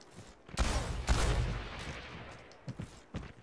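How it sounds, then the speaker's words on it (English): A burst of loud video game gunfire erupts and rumbles on for a second or so, followed by a few sharper distant shots, with no talking. "I hear gunshots"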